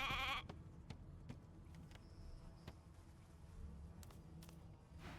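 A sheep bleats briefly in the Divinity Original Sin 2 video game, one short, close bleat at the very start, then faint ambient hum and soft scattered clicks with a high buzz.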